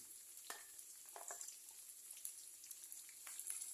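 Minced pork stir-fries with chili in a pan, heard as a quiet, crackling sizzle. Scattered sharp spits and short scraping bursts sit on top, and no one speaks.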